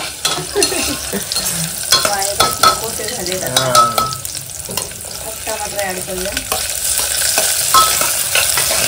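Tomatoes stirred and frying in a pan for a healthy paneer dish, a steady sizzle under repeated scraping and clinking of a spoon against the pan, close and fairly loud, with no talking.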